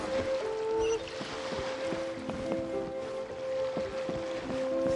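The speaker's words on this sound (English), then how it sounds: "Sound of the ocean waves." Ocean waves while sailing a boat in the video game Genshin Impact, a soft steady wash of water and wind with gentle creaks and faint tonal game music underneath, fairly quiet.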